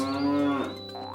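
A single cow lets out one long, close moo that falls in pitch and fades into a lower, breathy tail.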